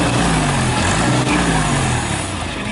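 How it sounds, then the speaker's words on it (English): A 1955 International Cub tractor engine idles steadily and quietly nearby, a continuous low hum with no talk over it. "it's sitting there running, and you can hear how quiet that tractor is"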